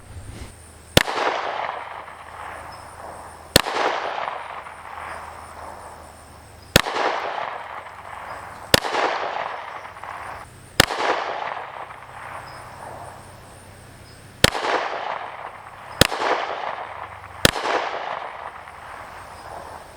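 A PSA Dagger pistol in .45 fires its first shots outdoors, eight sharp loud reports spaced a few seconds apart, each followed by a ringing echo that fades before the next shot.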